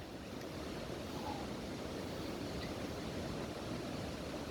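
Steady rushing water of the Kaslo River fills the whole stretch, a constant broad wash of flow with no voices.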